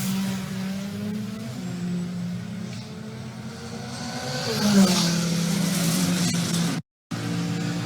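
A turbocharged Dodge drag races down the strip at a drag-week event, its engine a loud, sustained roar whose pitch climbs and shifts through the run, cut by a brief silence near the end.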